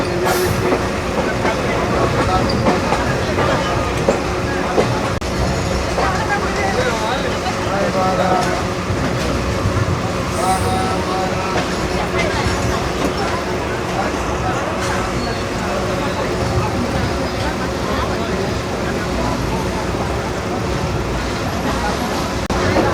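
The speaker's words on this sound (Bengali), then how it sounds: "এই দেখেন ট্রেন কিন্তু ছেড়ে দিয়েছে।" Titumir Express pulling out of Parbatipur railway junction, a steady loud rumble and rattle of the carriages with rhythmic wheel clatter, heard from on board, with people talking over it.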